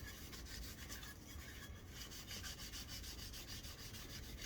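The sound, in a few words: sanding knife blade edge with 400 grit sandpaper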